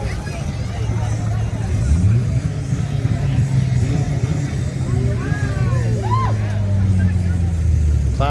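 A classic Plymouth Roadrunner, a Mopar muscle car, drives past in a small-town parade in Ordway, Colorado, its engine rumbling steadily amid crowd babble and speech, with a rising tonal whine midway.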